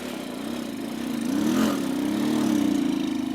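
A custom motorcycle engine runs steadily on a test ride in Nigeria, a close, droning hum that swells slightly and then holds, with no voices.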